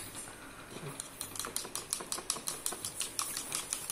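Seasoning being whisked into a mixture in a bowl, with fast, steady clicking strokes that speed up and settle into an even rhythm, close and fairly quiet with light background noise.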